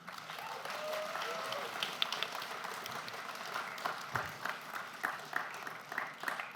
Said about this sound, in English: Can I get a round of applause for our panelists?